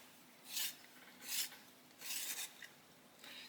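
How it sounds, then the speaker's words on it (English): An orange colouring pencil being sharpened, giving four short raspy scraping bursts at a steady rhythm, close and fairly faint in a quiet room. "This one needs a sharpen for the central part."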